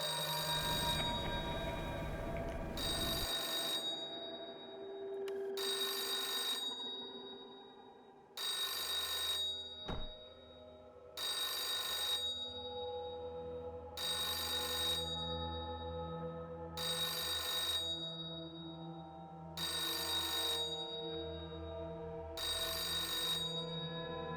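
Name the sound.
phone ringing in the video game Hotel Infinity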